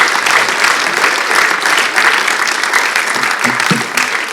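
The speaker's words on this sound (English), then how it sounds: "Give them another round of applause." Loud, sustained applause from a large crowd, dense clapping that holds steady for several seconds with no pause.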